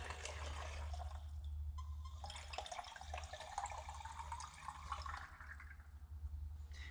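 Well water rushes from a tap into a sample bottle during a test fill, a steady hissing pour over a low rumble that keeps going, fairly faint, with no talking.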